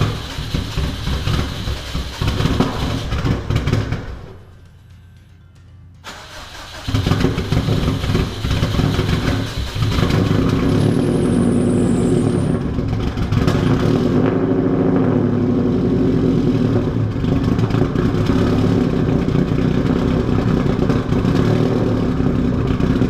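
A Subaru WRX engine cold-starts after a brief cranking gap, then settles into a steady, loud, close idle with a rough, uneven burble that runs continuously with no talk.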